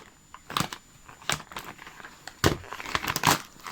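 Close crinkling and tearing of plastic packaging as a dull, tired blade struggles to slice open a package of clothes, in uneven scraping bursts with quiet gaps between, no speech.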